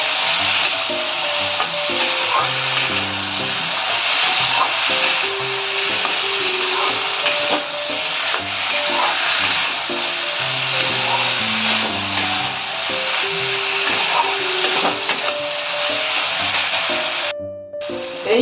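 Ground coconut and spices fry in a pan for shahi sukto, a steady hissing sizzle with scraping stirs and tonal clinks throughout, loud and close, ending in an abrupt cut.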